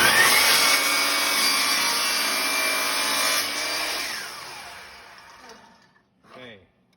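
Power saw cutting a crown molding board, a loud steady whine that winds down over several seconds and trails off, followed by a short spoken remark.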